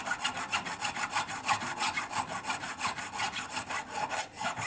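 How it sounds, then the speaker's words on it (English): Hand file working solder off the inside of a cabochon opal ring: a steady, fast back-and-forth rasping with evenly spaced strokes, close and moderately loud, with no talk. "just needs a little bit of a file to get rid of the solder on the"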